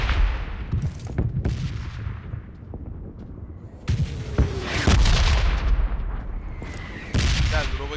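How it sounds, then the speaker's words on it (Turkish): Repeated sharp gunshots and booming blasts in rapid bursts, a busy PUBG Lite firefight with heavy low rumble throughout. "Sağımıza silah sesleri."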